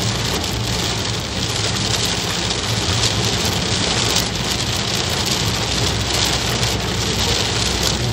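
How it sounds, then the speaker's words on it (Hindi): Heavy torrential rain pours down in a dense, continuous roar, loud and steady throughout with no voices. "ये अभी मूसलाधार बारिश है।"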